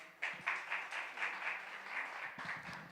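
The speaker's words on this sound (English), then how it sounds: "Thank you for that roaring applause, audience." A youth gathering audience claps for Dan, a continuous, moderately distant round of many hands with a few individual claps rising above the crowd, and no talking over it.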